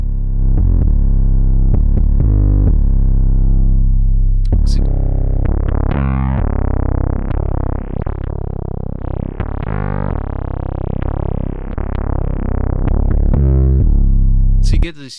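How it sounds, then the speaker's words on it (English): A heavily overdriven, distorted tone from the Decapitator analog overdrive plugin plays continuously and loudly, with rich, gritty harmonics and shifting pitches and short bursts of noisy attack. "You get this really rich, deep analog overdrive"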